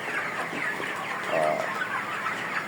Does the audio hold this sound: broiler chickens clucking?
yes